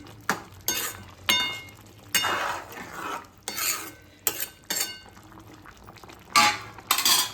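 Dal masala khichdi stirred in a cooking pot, a series of wet, thick squelching scrapes and spoon clinks against the metal, arriving in uneven strokes close by, with quiet pauses between them.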